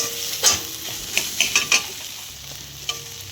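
Papaya is stirred and cooked in a pan, a steady sizzle beneath several distinct scraping and clinking stirring strokes at close range, with no voices.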